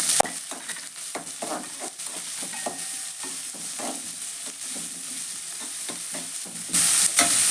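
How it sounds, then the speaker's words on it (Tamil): Chopped large onion and lentils sizzle in a pan while being stirred, a steady close hiss broken by repeated scraping strokes of the spoon throughout. "1 வெங்காயம் கட் பண்ணி வச்சுருக்கேன், பெரிய வெங்காயம். அதையும் இதில் சேர்த்துறேன்."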